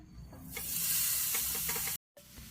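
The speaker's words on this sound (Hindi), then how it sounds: "उसी कढ़ाई में हम मावा को भी भून लेते हैं।" Steady sizzling with scraping stirring strokes as khoa is roasted in a kadai, close and moderately loud, briefly cutting out near the end.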